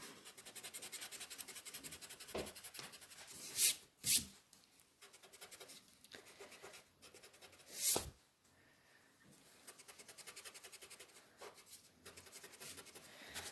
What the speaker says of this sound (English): take your eraser and erase out the horizon line